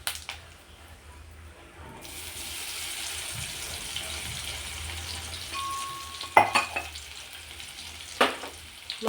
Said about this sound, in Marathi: मस्त परतून घ्यायचा तेलावर।